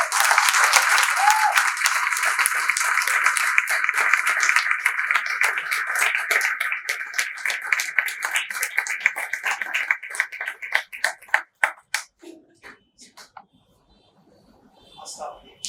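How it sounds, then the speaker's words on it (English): A symposium audience gives sustained applause for student research presenters. The clapping is dense and loud at first, then thins into scattered individual claps and fades away, with a voice briefly audible at the end. "give them another quick round of applause"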